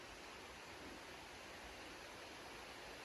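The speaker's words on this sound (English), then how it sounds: "Can you hear the stream?" A flowing stream outdoors by Lake Como makes a steady, even rushing hiss, faint and continuous with no other sounds.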